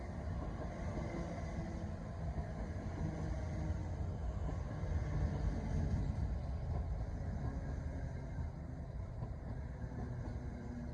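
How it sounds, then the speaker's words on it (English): Elizabeth line train, unit 345021, bound for Heathrow Terminal 4 at Ealing Broadway station, a low steady rumble of rolling wheels and motors that swells slightly midway, fairly distant and quiet. "Here we have the delayed Elizabeth line train going to Heathrow Terminal 4."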